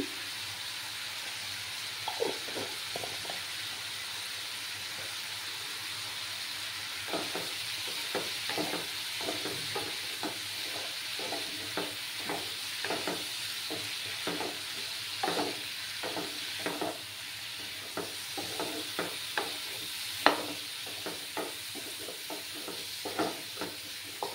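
Tengra fish and potato pieces with spices, including Kashmiri chilli powder, are sautéed in a pan: a low steady sizzle runs under dozens of irregular, close spatula clicks and scrapes as the mixture is stirred, with no speech.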